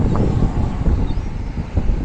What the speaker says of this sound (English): I'm just going to have to put up with the wind, and if it's blowy on the mic